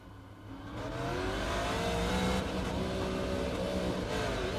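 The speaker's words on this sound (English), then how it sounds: "That car didn't want to go into third gear." Race car engine revs under load and rises in pitch as it labors to get into third gear, loud and close with no voices.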